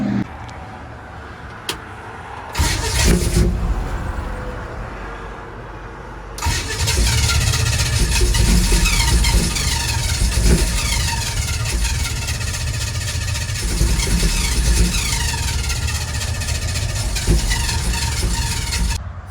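A flooded truck engine at a truck nationals show cranks in short bursts, then catches and runs loudly at a steady idle with a rough, uneven note, close and alone.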